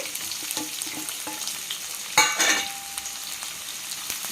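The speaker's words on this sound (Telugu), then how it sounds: "బాగా ఎర్రగా ఏగాలి ఉల్లిపాయలు వేగినాయండి" Chopped onion frying in hot oil in a pan for veg manchurian, a steady close sizzle with a louder crackling burst midway as the onions are stirred.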